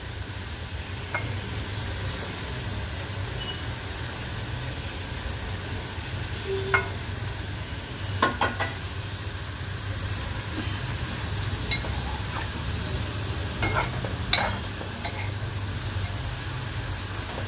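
Kharbi fish go into a wide pan of ground spice paste with a little water and sizzle faintly. The steady hiss carries a few sharp pops over a low background hum, and no one speaks.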